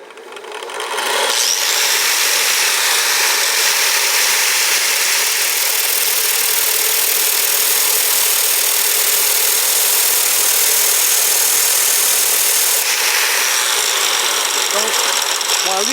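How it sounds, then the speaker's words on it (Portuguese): An angle grinder fitted with a 3 mm disc, tilted slightly to grind a taper on a solar tracker actuator part, whines in one continuous, loud, high-pitched run for most of the clip after a short spin-up. "Com a lixadeira levemente inclinada, você consegue fazer a conicidade com a centração mais aproximada possível."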